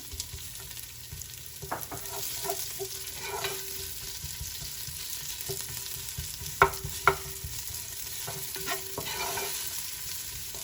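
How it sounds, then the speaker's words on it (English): Sliced onion fries in a pan with pork ribs for sinigang, a soft, steady sizzle under occasional clinks and scrapes of a spoon stirring, quiet and close with no talking. "we can go ahead and add the sliced onion"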